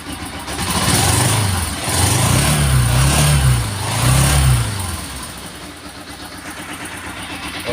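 A Honda TMX 125 motorcycle idles and revs after a battery change, its engine rising and falling in two strong swells before settling to a steadier, quieter idle, close and loud with no talk.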